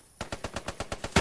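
Rapid automatic gunfire from the World War II shooter game Post Scriptum, about nine evenly spaced close shots in quick succession, the last one louder and heavier, with no talk over it.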